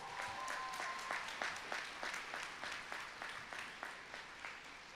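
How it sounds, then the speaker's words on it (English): Applause at a university commencement ceremony: a modest crowd claps steadily, with individual claps distinct and rhythmic, fairly quiet and slightly distant, a few voices faint beneath. "Yes, give her a round of applause for that."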